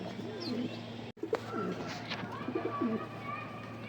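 Pigeons kept for sale coo in a soft, repeated rhythm near the microphone, several low throaty calls with a brief dropout partway through, and no speech.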